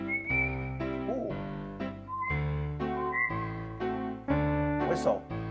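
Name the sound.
whistle voice on Lowrey EZ series keyboard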